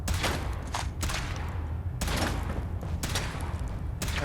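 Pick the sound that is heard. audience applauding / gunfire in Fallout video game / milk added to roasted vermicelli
gunfire in Fallout video game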